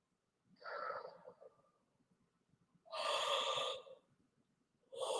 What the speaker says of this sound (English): See how my body just took that yawn?